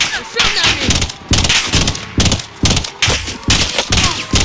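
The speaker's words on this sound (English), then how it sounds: "They're shooting at me." Rapid bursts of gunfire in a battle royale video game, loud and close, coming in several distinct volleys separated by short gaps.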